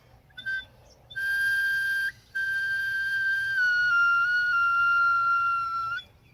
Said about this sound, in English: I made something. I made a whistle.